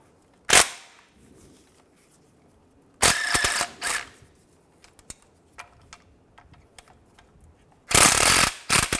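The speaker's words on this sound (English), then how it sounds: "Use a 13mm socket. And then these two bolts as well." A ratchet turns a 13mm socket to remove bracket bolts on a 2005-2010 Chevrolet Cobalt during a clutch slave cylinder replacement. Three separate bursts of rapid, sharp clicking sound close up, with quiet gaps and small clinks between them.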